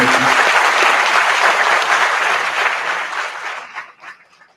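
Audience at an engineering career guest session applauding a speaker, a dense burst of clapping that holds loud for about three seconds then fades out to scattered claps.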